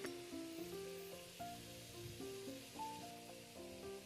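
Cauliflower and tomato hiss softly as they fry in a little oil for vegetable pulao, a steady faint sizzle that sits beneath louder melodic background music.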